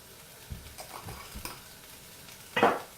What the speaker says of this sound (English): what I do is I fry the herbs now